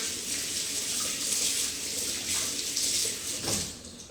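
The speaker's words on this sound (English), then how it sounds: "When your hands are dirty, make sure you just wash them." Hands are washed under a running kitchen tap, a steady close hiss of flowing water with faint splashing changes as the hands move, no talk over it.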